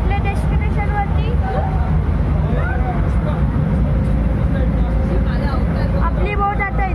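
A ferry boat's engine runs on the crossing from Harihareshwar toward Ganpatipule, a steady, loud low rumble that never lets up. Crowd chatter and voices carry over it throughout.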